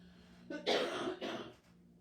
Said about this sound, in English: excuse me a minute, I'm going to cough.